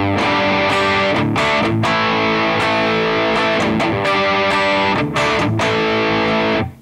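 Heavily distorted electric guitar playing a rhythm part through a HeadRush pedalboard with a Soldano amp model, delay and a Soldano cabinet IR, loud and continuous with brief choked pauses between chord bursts, no voices.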